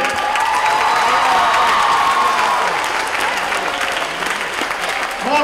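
Sustained audience applause with some cheering fills a middle school gym at a fitness center ribbon cutting, steady and loud from start to finish.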